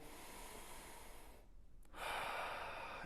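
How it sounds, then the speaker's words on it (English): Slow, deep breathing of a person lying on their back, a broad airy hiss that thins briefly before a stronger, fuller inhale near the end, close and steady with no talking. "taking my breath in"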